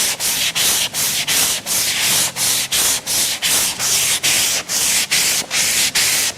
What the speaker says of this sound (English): I'm just in the finishing stages of sanding it out